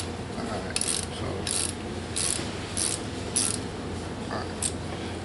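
A hand ratchet snugs a bolt on a bracket of a 2007 Mini Cooper S R56 during cylinder head installation, giving about seven quick, close clicking bursts at an even rhythm with short pauses between.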